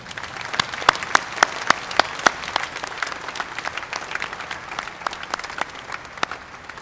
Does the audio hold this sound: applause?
yes